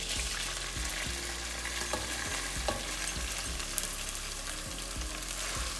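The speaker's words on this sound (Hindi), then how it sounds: "अब हम ये चावल डालेंगे जो मैंने बॉईल किए हैं।" Boiled rice for sweet zarda tipped into a hot pot, with a steady frying sizzle and scattered soft clinks and stirring taps throughout, fairly quiet and close with no talk.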